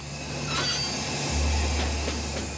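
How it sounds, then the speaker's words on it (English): A train rolls along damaged rails in Katanga, Congo, with loud continuous rumble, hiss and faint squeals as it loses speed. "He can feel the train losing speed."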